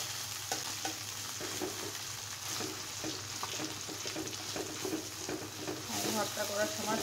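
Thick fish pieces fry in a hot pan while being stirred, a steady sizzle with scraping stirs over a low background hum.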